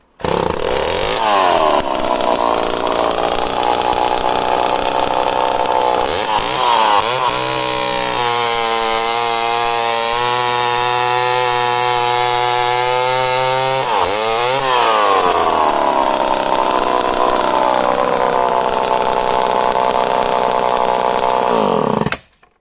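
An old chainsaw with a dull chain runs loud and close, revving up to a high steady whine, holding, then dropping back to a rough idle before revving again.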